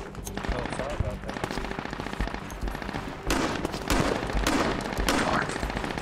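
Rapid bursts of automatic gunfire and sniper shots from Turkish Invasion gameplay keep up without pause, loud and dense, with players talking over the shooting.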